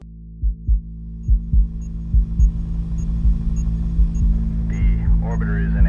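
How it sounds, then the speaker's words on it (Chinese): Heartbeat sound effect used to build tension in an outer-space scene: deep, paired thumps repeat steadily, first alone, then continuing beneath a low sustained drone and rising tones toward the end. "这时我们添加心脏跳动的音效"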